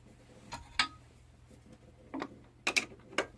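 Spinning top blank being set into the metal jaws of a lathe chuck, giving a few sharp metallic clicks and clunks spread irregularly across a quiet workshop background.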